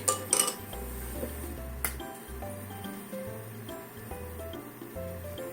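Utensils clink and scrape against a plate as food is set down, a few sharp taps over a steady low rumble.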